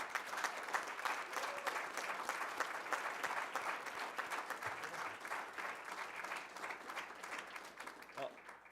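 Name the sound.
audience applause for national cybersecurity team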